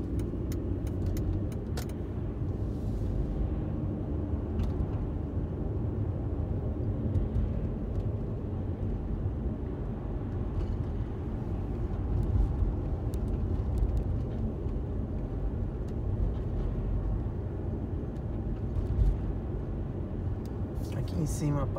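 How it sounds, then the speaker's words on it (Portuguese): Steady car traffic on Minami Kansen, a busy avenue in Japan, with a continuous low rumble of passing vehicles heard from inside a moving car, heavy and unbroken throughout. "é sempre mais cheio de carro nessa avenida aqui"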